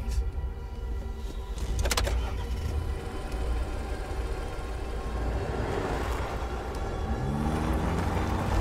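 A car drives along with a continuous low engine rumble and road noise, close and steady, with a brief whine partway through and a rising engine note near the end.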